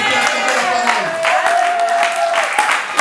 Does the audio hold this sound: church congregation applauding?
yes